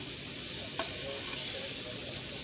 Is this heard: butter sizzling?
yes